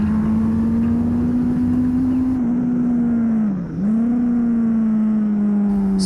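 Classic Superbike racing motorcycles pass by at an AFM race, a loud, steady engine drone with one brief dip in pitch as the bikes go past, heard alone without talk.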